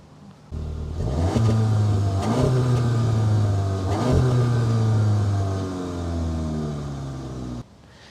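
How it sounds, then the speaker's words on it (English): Exhaust of a 2019 VW Jetta GLI 35th Edition sedan with a DSG gearbox and twin real tailpipes, revved repeatedly from a steady idle in loud, rising surges that fall back between blips, heard up close with no talking. "I see two real exhausts, and they sound like this."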